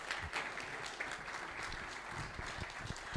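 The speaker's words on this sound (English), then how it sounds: "So please clap a hand, John Allen" Conference audience applauds steadily, a dense patter of clapping heard from a distance and fairly faint, with no talking over it.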